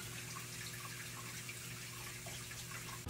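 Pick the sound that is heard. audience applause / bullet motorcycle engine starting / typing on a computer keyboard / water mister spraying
water mister spraying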